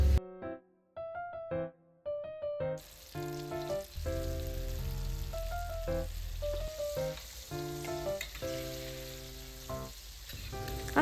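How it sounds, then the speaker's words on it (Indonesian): Mushrooms coated in all-purpose flour batter sizzle and crackle steadily in hot oil at home, a continuous close frying hiss with light popping, while soft background music plays throughout. "Ini aku cuman goreng jamurnya gitu loh"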